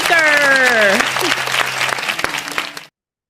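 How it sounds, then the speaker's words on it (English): Applause rises at an online AI summit, with a speaking voice over the top at first. The clapping continues as a dense, fairly loud rustle under the talk before cutting off abruptly into silence. "come on, round of applause"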